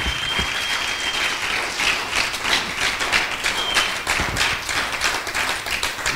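A church congregation applauding, dense sustained clapping filling the room at a loud, even level with small swells, no speech on top.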